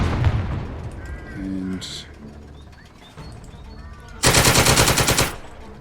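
A WW2 tactical squad video game, Second Front, where birds coo and a brief spoken word come first, then a loud rapid burst of machine gun fire lasting about a second.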